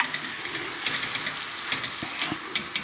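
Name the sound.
calamari sautéing in a pan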